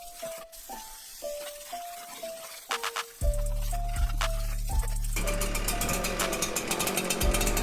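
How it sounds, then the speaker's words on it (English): A few short electronic beeps, then a small gasoline engine of an oversized backpack leaf blower roars to life and runs loudly and steadily, a low droning blower close by. "I've got an oversized backpack blower"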